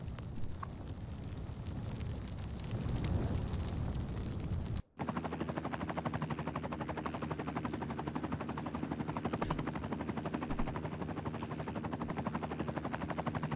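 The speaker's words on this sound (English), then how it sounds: "The fire department's so good, they just send a helicopter and dump a whole heap of water on it." Firefighting helicopter in Cities: Skylines II flies in to dump water on a burning building, its rotor a dense, rapid pulsing chop that stays loud and steady after a brief cut in the sound.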